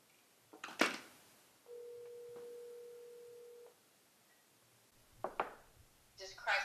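A telephone's steady electronic ring tone sounds once for about two seconds on speakerphone. Brief spoken voices come before and after it.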